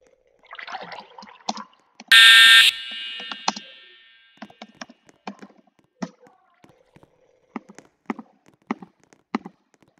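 A school fire alarm at a middle school blares once, a loud harsh buzzing tone lasting about half a second, set among scattered clicks, taps and soft voices.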